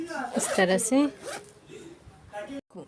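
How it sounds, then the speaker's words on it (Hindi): Zipper on a handmade one-piece-cut fabric lunch bag rasps in quick strokes close by, with someone speaking over and between the pulls. "ये हमारा ज़िप है।"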